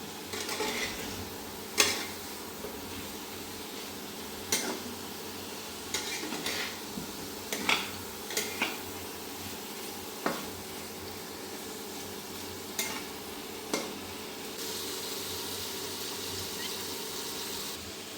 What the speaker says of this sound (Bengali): এখন কাঁচকলাগুলো আমি একটু মশলার সঙ্গে একটু মিক্স করে দেব